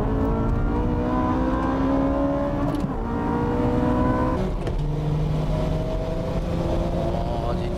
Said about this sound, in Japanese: The Nismo GTR coming on.